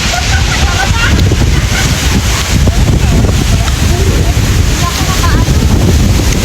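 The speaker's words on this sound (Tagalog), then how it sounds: "Ang lakas ng hangin." Strong wind roars and buffets the microphone in a steady, loud rumble among orange trees by an Orthodox church in North Lebanon, with faint water or surf noise underneath.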